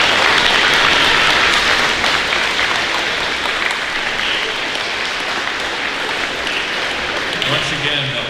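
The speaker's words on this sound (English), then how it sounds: "Let's give them a big round of applause" Big round of applause from a middle school audience at an academic awards ceremony, dense steady clapping filling the whole stretch, loud and close throughout.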